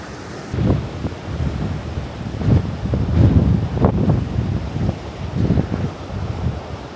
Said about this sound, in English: it's a bit breezy, but yeah, Mother Nature's turned it on for us today in a wild sense